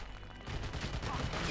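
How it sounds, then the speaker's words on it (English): Sustained, fairly faint rattle of rapid gunfire in the Army of Two video game during a mission on the Lijiang River in China, starting after a brief lull and continuing as a dense low crackle. "They're still shooting."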